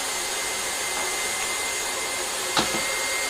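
An electric mixer whirring steadily through a chocolate treat mixture, a loud, continuous motor drone heard close up, with one brief knock partway through.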